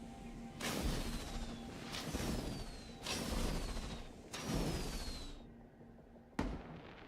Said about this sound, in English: Oh, I can light the fireworks here.